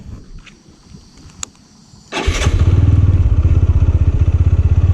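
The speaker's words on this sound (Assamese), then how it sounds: "তো ব'লক বাইকখন ষ্টাৰ্ট দিওঁ" A motorcycle engine kicks to life after a quiet stretch, then settles into a loud, steady, throbbing idle as it pulls away, close by, at the start of a ride.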